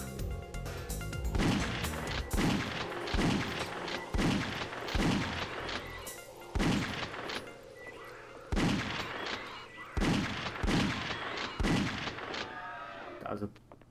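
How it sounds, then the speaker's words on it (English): Gunfire in the PS1 game Alien Trilogy: heavy, booming shots fired at a steady, spaced rhythm of roughly one every second or so, loud and close, with some background game ambience between them. "Poor display of shooting there."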